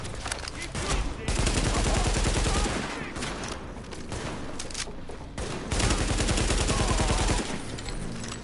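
Rapid automatic gunfire roars through a firefight in The Division video game, loud, dense bursts almost without a break, with brief lulls between volleys and a voice talking underneath.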